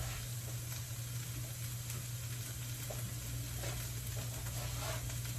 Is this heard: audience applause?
no